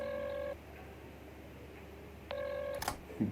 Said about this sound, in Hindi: ऑनकोर कहाँ है, इसे फोन करता हूँ एक सेकंड